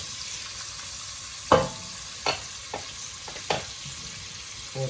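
Bacon fries in a pan at a kitchen stove for lentil soup, a soft continuous sizzle broken by a few sharp pops and stirring scrapes.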